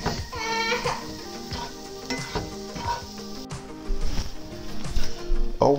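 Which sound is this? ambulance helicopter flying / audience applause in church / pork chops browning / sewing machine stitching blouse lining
pork chops browning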